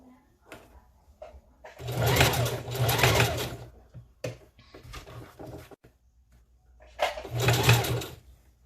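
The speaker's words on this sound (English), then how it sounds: "so we have to lift it up and keep sewing" A sewing machine stitches a ponytail in loud bursts of rapid mechanical whirring, with a pause between runs and another burst near the end, no talking.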